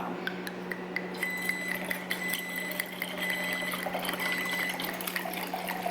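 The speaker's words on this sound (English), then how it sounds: "I'm gonna pour some wine." Wine poured from a big bottle into a glass, a trickling liquid stream with faint glassy clinks over a low steady hum, rising slightly in the second half.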